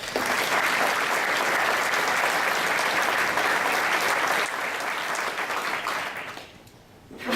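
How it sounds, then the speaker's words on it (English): Sustained audience applause at a business member annual meeting, a dense, even round of clapping from a large crowd that tapers off near the end, with no talking over it. "let's give them a round of applause"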